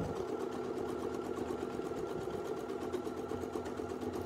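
A domestic sewing machine quilts an edge-to-edge sampler, its motor humming in a continuous even drone with rapid regular needle pulses, close and steady throughout with no talking.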